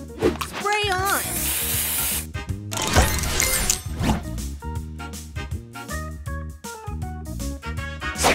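Spray effect from the mobile puzzle game Plunder Pirates, a hissing burst that sits among busy game music, chimes and repeated announcer voice callouts.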